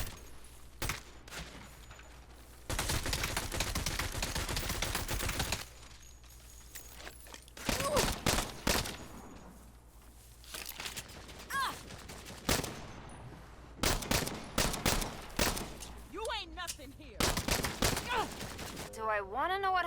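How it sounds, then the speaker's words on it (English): Gunfire erupts during a street fight in the video game Saints Row, with bursts of rapid automatic fire and single shots coming in loud clusters, broken by short lulls and some shouting between volleys. "because they're gonna hear the gunfire, obviously"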